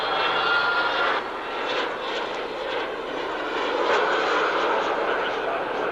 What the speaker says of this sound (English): you could hear the beautiful sound of that engine spooling up as he tucked everything away